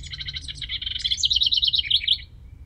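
Several songbirds sing on a wooded trail at Maxwell Mays refuge in Coventry during spring migration, with rapid overlapping chirps and trills, fairly close and clear above a low rumble of background noise.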